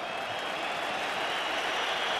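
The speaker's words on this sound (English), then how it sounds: "Gabi comes back on to huge applause from the Atletico Madrid fans" Atletico Madrid fans applaud Gabi's return to the pitch at the Spanish Cup Final against Real Madrid, a steady, dense wash of stadium clapping and crowd noise that holds evenly throughout.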